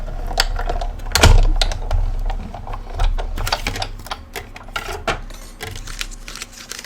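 A Big Shot die cutting machine cranks a sunflower card through its rollers, giving a close, loud run of rapid clicking and rattling with a heavier thump near the start and no talking.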